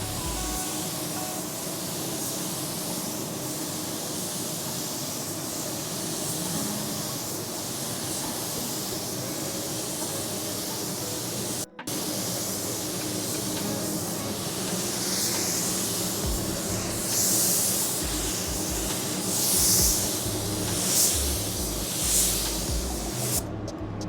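A spray gun lays coarse metallic paint onto a Chevrolet Silverado panel during a blend, giving a steady, continuous hiss with no talk and a brief break midway.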